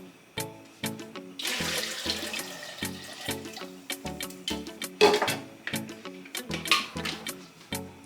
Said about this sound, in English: Then you pour some water.